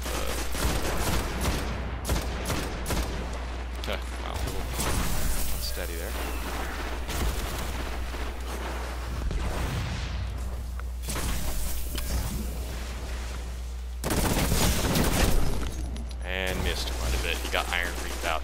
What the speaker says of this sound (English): Just getting out that shotgun.